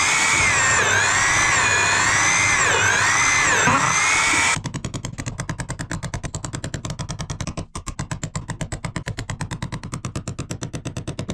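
A hole saw on a power drill bores through the log wall of a 128-year-old cabin, first grinding loudly and continuously, then switching to a rapid, regular chattering rattle as the cut continues, close by and alone.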